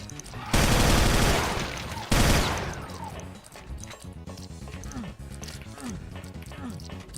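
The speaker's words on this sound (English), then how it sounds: "I got the chain gun." A chain gun fires in Factorio in two loud, dense bursts of rapid gunfire, followed by quieter game sounds and scattered impacts.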